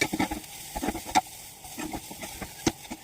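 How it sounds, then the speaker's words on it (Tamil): Masala sautéing in a pan for a fish puttu, with scattered scrapes and stirring taps over a low, quiet sizzle; close and fairly soft, no voices. "மசாலையோட பச்சை வாசனை போகணும், அது வரைக்கும் நல்லா வதக்கிக்கோங்க"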